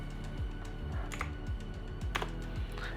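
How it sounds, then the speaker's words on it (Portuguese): Keys clack on a keyboard connected to a Steam Deck during an SSD swap, a handful of separate close taps and presses in an uneven rhythm with no talking. "agora eu vou digitar a letra Y para continuar"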